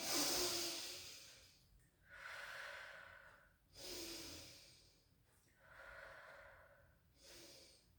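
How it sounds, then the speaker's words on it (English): Slow, audible breaths in and out during a rehab pilates exercise, four long airy swells with quiet gaps, close and soft. "And then breath in."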